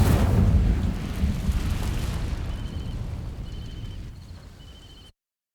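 Incendio fire spell igniting dry vines in Hogwarts Legacy, a loud roaring whoosh of flame that swells at once and then slowly dies away, alone with no voices.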